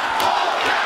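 A capacity crowd at a no-disqualification heavyweight championship wrestling match in Chicago roars and cheers, a loud, dense, continuous wall of voices filling the arena.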